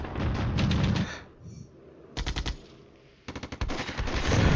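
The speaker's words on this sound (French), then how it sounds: "Alors, notre artillerie frappe les positions identifiées." Artillery and automatic gunfire in the Cold War strategy game Flashpoint Campaigns, with sharp bursts of machine-gun rattle in separate volleys and a heavy rumbling barrage, loud and without talk.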